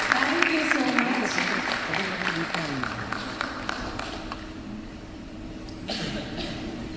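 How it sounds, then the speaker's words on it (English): A crowd applauds at the Gulf Green Summit & Awards 2025 gala in Dubai: a steady wash of clapping that is loud at first, then eases off and swells again near the end, with talk and murmuring mixed through it. "A huge round of applause there."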